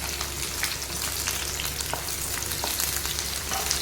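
Small onions sautéing in hot oil in a pan make a dense, continuous sizzle and crackle, close and even, with occasional sharper pops and no voices.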